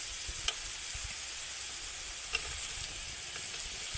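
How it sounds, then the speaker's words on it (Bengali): Fried potatoes are added to a snakehead fish curry cooking in a pan, a steady close hiss of sizzling oil with a couple of sharp clicks from utensils and no talk. "এবার ভেজে রাখা আলুগুলো দিয়ে দেব"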